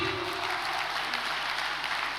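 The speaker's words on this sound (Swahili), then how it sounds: "Wewe endelea kupiga makofi." A church congregation claps steadily through a sermon, a dense continuous wash of applause from many hands.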